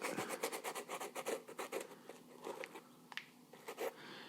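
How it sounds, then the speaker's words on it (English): Rubbing and scratching at lumpy glitter coating on a pair of handmade glitter shoes, a quick series of short rasping strokes close by, with no talking. "I'm wondering whether to rub some of the lumps off now."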